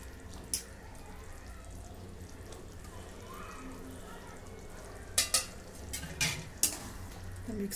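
Brinjal (eggplant) fries in oil in a pan with peanut flour mixed in, a low sizzle under several sharp clinks and scrapes of a spoon stirring against the pan.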